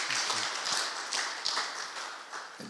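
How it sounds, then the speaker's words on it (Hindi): A congregation claps to welcome a newcomer during a Sunday Hindi church service at Kinoya Assembly, a steady, dense patter of many hands filling the room for a few seconds. "हम ताली का द्वारा आपका स्वागत करना चाहेंगे"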